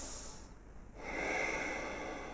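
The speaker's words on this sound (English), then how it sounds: "So breathing in and out through your nose" Slow breathing through the nose, one quiet inhale and then a longer, louder airy exhale, close and alone in a calm setting.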